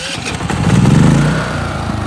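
A dual fuel generator engine catches and revs up, a loud close rumbling roar that builds within a second and then settles into a steady running drone.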